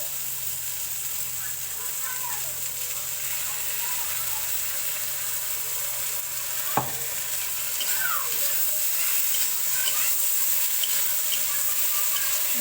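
Pointed gourd fries with spices in a pan, a continuous close sizzle with occasional scraping and clinking as it is stirred, growing slightly louder toward the end.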